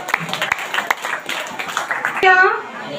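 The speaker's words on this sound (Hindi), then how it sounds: "थोड़ा तेज ताली बजा के परमेश्वर को धन्यवाद दीजिए" A church congregation at Sunday prayer claps in thanks to God, a dense run of many hands close by that builds to louder, fuller applause toward the end, with voices mixed in.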